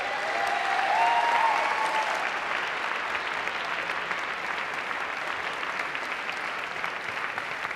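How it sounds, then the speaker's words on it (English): Warm applause from an evening audience inside St Paul's, the Actors' Church, at a West End Christmas concert, a steady dense clapping that carries on evenly throughout with a brief whistle near the start. "will you please give a big, warm round of applause to David Pendlebury"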